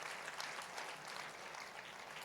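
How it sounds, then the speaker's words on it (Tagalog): A church congregation applauds during a Sunday sermon, a steady, fairly faint wash of clapping with no clear break for its whole short length. "Isang malakas na palakpak sa Panginoon."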